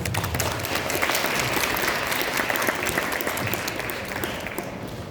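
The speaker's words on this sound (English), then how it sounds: "Let's give them a round of applause." Audience at a Black History Month alumni panel forum for Whitney M. Young applauds the panelists, a dense, steady wash of many hands clapping that holds throughout and eases slightly toward the end.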